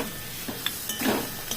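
Meat is stirred in a pan over a low flame with salt and turmeric, making a soft sizzle under a few scrapes and light clinks of a utensil against the pan, with no talking.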